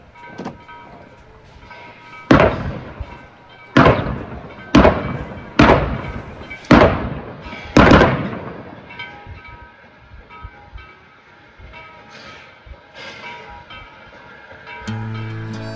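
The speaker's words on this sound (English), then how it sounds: "they will run over these little pieces of dynamite, and they're supposed to warn you to not go down there" Railroad torpedoes on the Nevada Northern railway burst under a passing train in a string of six loud sharp bangs over about six seconds, each ringing out and echoing, followed by the rumble and clatter of the rolling train and a faint horn.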